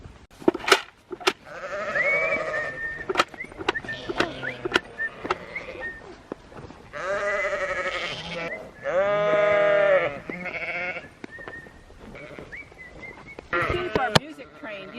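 Sheep on a homestead bleat repeatedly, several loud wavering calls at close range, with a few sharp knocks and clicks between them.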